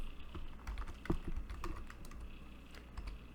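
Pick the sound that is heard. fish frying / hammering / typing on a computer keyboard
typing on a computer keyboard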